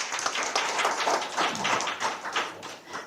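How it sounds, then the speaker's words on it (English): An indoor crowd claps for a celebrated free-solo climber, a dense, even patter of many hands that holds steady for about three seconds. "Yeah, you can clap for that."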